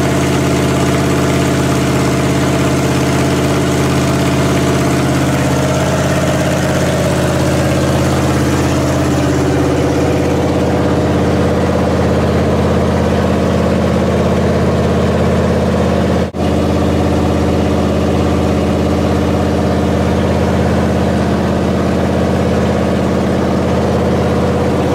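A Chevrolet C10 square-body truck engine fitted with Holley Sniper EFI idles in a garage with a steady, loud, low rumble that holds for the whole stretch, with no voices.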